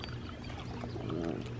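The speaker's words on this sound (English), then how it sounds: "She did a growl." A low, rumbling dog growl, steady and close, lasting a second or so over faint background noise.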